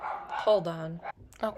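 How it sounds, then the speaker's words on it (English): Pet dog barking indoors in a house, a few close yips and barks mixed with a person talking briefly. "You can hear my dog barking."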